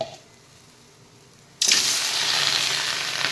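Tomatoes dropped into a pan of golden fried onions burst into a loud, steady sizzle that starts abruptly after a quiet moment and continues close up.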